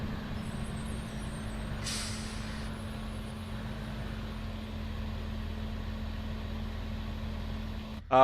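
An old Mercedes-engined school bus idles with a steady low drone, broken by a single sharp air-brake hiss early on and a brief clunk at the very end, with no talking.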